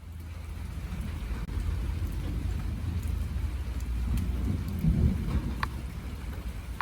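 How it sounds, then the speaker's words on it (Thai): Steady, dense patter of rain striking a corrugated zinc roof overhead in a rural garden shelter at dusk, a continuous close hiss with low rumble and occasional sharper drops, no voices. "อยู่ใต้ หลังคาสังกะสีได้ยินเสียง เม็ดฝนกระทบ สังกะสีครับ ดังปอกแปะปอกแปะครับ"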